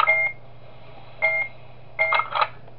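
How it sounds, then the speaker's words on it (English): Security camera in a horror video game beeps to signal movement: a single short beep, a second one about a second later, then a quicker double beep near the end, clear and close over a steady low hum. "If the camera makes a beeping sound again, it means somebody moved."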